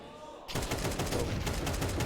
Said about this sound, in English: Good tap fire coming at it from Bex as she's left alone.